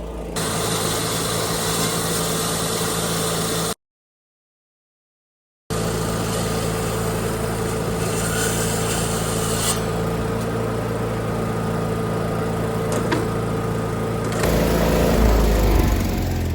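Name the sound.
Milwaukee saw cutting 2-inch thick metal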